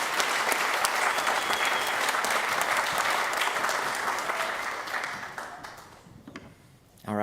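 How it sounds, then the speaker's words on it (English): Congregation at a Shabbat evening service applauding, a dense sustained wash of many hands clapping that holds steady, then thins and fades toward the end. "One more time, we're clapping for these folks."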